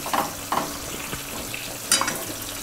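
Stuffed bitter gourd filling, with turmeric and salt, fried over low heat in a pan, a steady close sizzle broken by a few scraping stirs of a spatula, with no talking.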